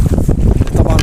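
Strong wind buffets the microphone at sea during a fishing trip, a loud, continuous low rumble with gusty surges filling the whole second.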